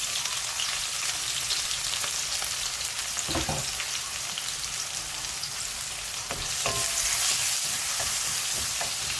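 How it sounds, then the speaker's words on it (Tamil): Onions for tomato rice fry in a pan with a dense, steady sizzle like light rain, and a few stirring scrapes stand out partway through. "வெங்காயம் நல்லா வதங்கினதும்"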